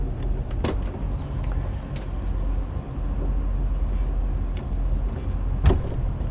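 Twin-engine boat with Bravo III outdrives maneuvering at low speed while docking, a steady low engine rumble throughout with a few faint clicks and knocks, no talking.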